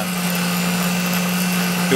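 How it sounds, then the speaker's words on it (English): A small handheld immersion blender whirs steadily as it blends agar into a tomato mixture on the stove, giving a loud, constant motor hum with a faint rise at the very end. "I really like using this little immersion blender"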